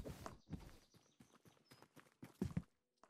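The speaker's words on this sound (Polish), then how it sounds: "Podoba mi się, jak ten koń drepcie." Horse hooves clip-clop faintly in the tavern-management video game Tavern Manager Simulator, a light run of steps, with a louder pair of knocks near the end.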